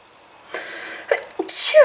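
A single sharp sneeze up close, with a short breathy build-up in front of it, then a brief voiced sound right after.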